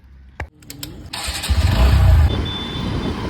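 A TVS Sport motorcycle is started nearby with a few clicks, then its engine catches and roars loudly before settling into a steady idle.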